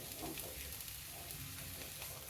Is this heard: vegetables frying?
yes